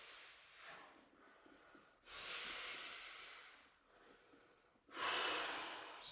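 Heavy breathing during an exercise class: slow, airy inhales and exhales alternate in an even rhythm, close and fairly soft, with no talking.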